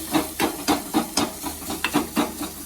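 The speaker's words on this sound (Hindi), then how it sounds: "थोड़ा इसको पका लें, उसका पानी अच्छी तरीके से सूख जाए।" Chopped ginger cooked in a pan over low heat for homemade ginger candy. Steady rhythmic stirring scrapes, about three a second, sound close against a soft, constant hiss of steam.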